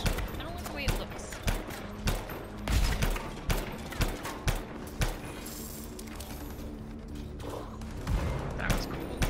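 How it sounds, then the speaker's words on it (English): A missile barrage in the game Anthem, a rapid series of sharp explosive impacts in uneven bursts, loud and close over a steady background of combat noise. "Is that a missile barrage?"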